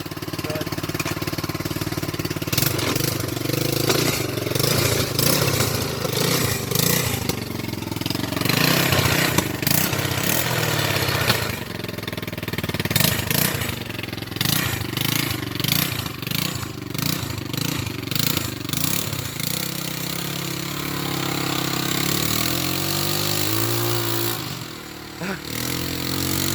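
A 2017 TaoTao 150cc ATV engine roars steadily while off-roading on light terrain, with repeated revving surges and throttle changes that stay loud and close throughout.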